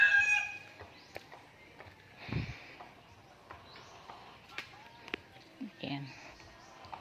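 Chickens cluck and call in short scattered bursts, fairly faint, with a rooster-like call and soft farmyard sounds around them.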